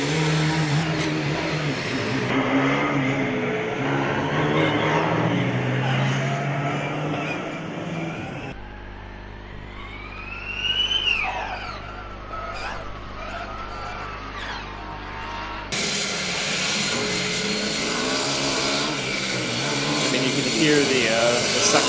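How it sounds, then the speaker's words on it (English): The Esslingen Formula Student car with its suction fan runs autocross at FSG21, a distant engine and fan whine rising and falling across the course while a commentator talks over it through much of the run. "Hear the suction fence from the Esslingen car all the way on the other side of the course"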